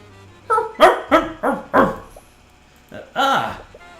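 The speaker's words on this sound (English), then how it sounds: "As you enter the study, Tracker runs up to you and begins barking." A dog barks in an audio drama, as it runs up to someone entering a study: about six loud, close yaps in quick succession, ending with a longer bark, with no talk over them.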